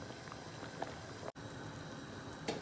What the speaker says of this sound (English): I'm also boiling some eggs to add to my biryani.